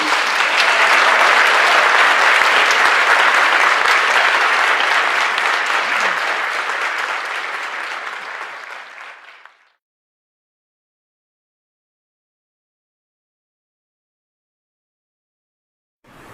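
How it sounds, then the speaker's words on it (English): Sustained, loud applause from a lecture audience at an Earthkeeper event in Scottsdale, Arizona, dense and steady for several seconds before tapering off and stopping, followed by silence. "So another round of applause, please"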